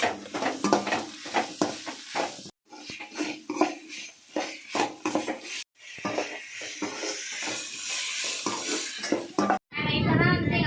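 Cut tomato pieces stirred into a frying curry, a steady sizzle with scraping and clinking of a utensil against the pot, broken by brief gaps, and a voice speaking over parts of it.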